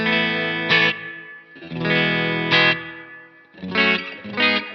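Electric guitar chords played through a chain of effects pedals on a cheap daisy-chain power supply, distorted and chorused, struck in four sustained bursts that swell and fade with short gaps between.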